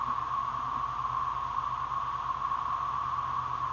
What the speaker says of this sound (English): all that noise you're hearing is these cicadas